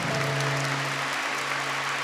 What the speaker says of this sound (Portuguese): Vamos aplaudir o Senhor que nos reúne aqui.